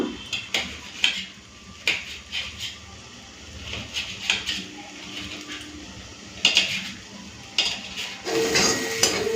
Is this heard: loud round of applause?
no